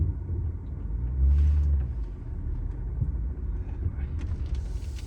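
Manual car engine idling and rumbling low while reversing into a parking spot during a driving lesson, a brief swell in revs early on, then a steady muffled drone heard from inside the cabin with no voices.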